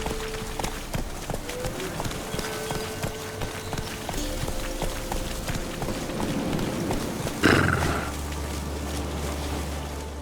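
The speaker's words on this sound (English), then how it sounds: "Run, Roach." In The Witcher 3, a horse gallops at a steady rhythmic clip-clop, close and continuous, with wind and background game sound and a brief rush of noise near the end.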